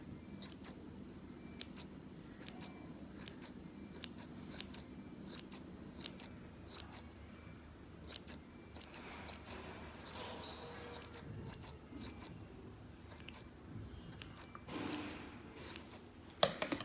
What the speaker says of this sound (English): for giving symmetry to it, just cut the extra thread.